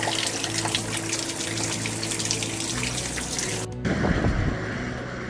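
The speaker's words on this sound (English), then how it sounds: "I'm gonna take a shower before we take off" A shower runs with a steady, dense rush of falling water close by. The spray changes abruptly near the end and turns rougher and splashier, with no voices.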